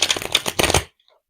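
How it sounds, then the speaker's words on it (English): Tarot cards riffled and shuffled by hand, a run of quick crisp flutters and taps for under a second before the sound stops into silence. "Until I shuffle the card, of course."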